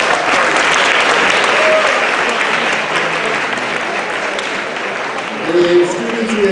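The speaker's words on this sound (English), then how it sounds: "Seniors who have 15 hours, give them a round of applause." A large audience at a 2018 senior awards ceremony gives sustained, loud applause for graduating seniors, a dense wash of clapping that fades slightly toward the end.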